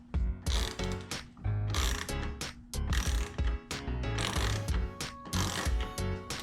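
A screwdriver loosening the screws on a door handle's back plate, giving a close, dry run of rapid ratcheting clicks in short bursts separated by brief pauses.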